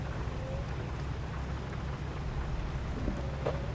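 Heavy rain pours steadily in the truck-driving game American Truck Simulator, with a low roll of thunder rumbling beneath the dense patter of drops and no voices.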